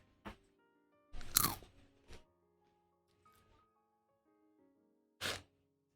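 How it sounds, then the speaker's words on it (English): A crunchy snack is eaten close up, with a few separate crisp bites and chews spaced out among quiet pauses. "Snack. I will snack."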